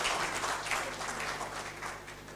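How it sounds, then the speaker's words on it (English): Steady applause from a crowd, a dense wash of clapping that holds for a couple of seconds and tapers slightly at the end. "Please let's have the applause going for them."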